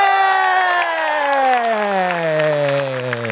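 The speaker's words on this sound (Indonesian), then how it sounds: "Tepuk tangan sekali lagi buat Gautama dan juga Ate." A studio comedy audience applauds and cheers after a roasting set, with a long falling whoop ringing over the clapping, loud and close.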